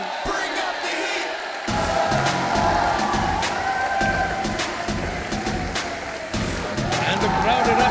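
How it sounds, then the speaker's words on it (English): Arena crowd cheering and roaring as an MMA fighter, Sohail Khan, enters the ring, a dense sustained wash of noise with sharp slaps and thumps scattered through it, under loud excited commentary. "And the crowd erupts for one of Mumbai's own, Sohail Khan"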